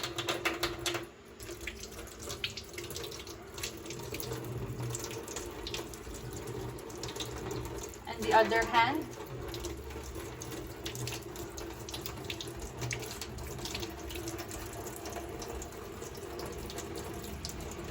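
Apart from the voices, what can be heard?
water running from tap, rinsing hands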